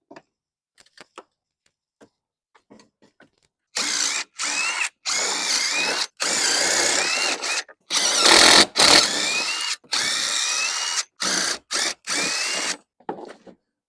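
A power drill removes the bolts on the bumper of a base-model Ford Bronco during an off-road bumper install. It runs in about a dozen short, loud, close bursts separated by brief pauses, with faint clicks before them.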